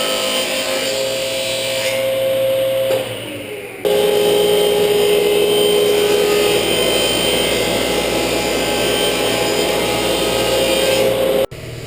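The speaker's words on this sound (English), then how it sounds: "Now we're going to do our cuts on a fancy guide on the table saw" A table saw runs loud and steady, dipping briefly as it cuts wood for a plyo jump box and then rising to a high, continuous whine and roar before cutting off sharply near the end; no talking.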